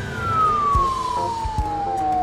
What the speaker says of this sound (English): That is the cutest fire engine I've ever seen.